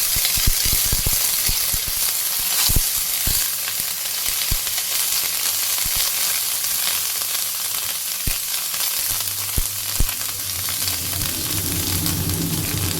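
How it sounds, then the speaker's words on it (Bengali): Neem leaves fry in hot oil with a loud, constant sizzle, punctuated by sharp crackles and pops, heard close up without any talking. "নিম পাতাগুলো এদিকে ভাজা হোক"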